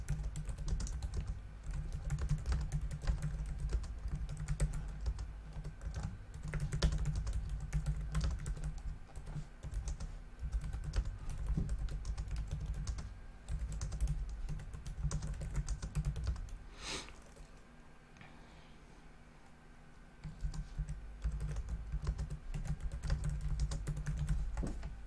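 Steady, continuous clatter of keys on a computer keyboard, close and fairly loud, with a brief lull near the end before the tapping resumes.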